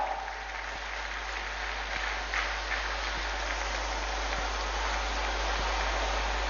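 Steady applause from a crowd at an outdoor government ceremony in Chaibasa, a continuous hiss of clapping held at even loudness throughout, with a faint low hum beneath.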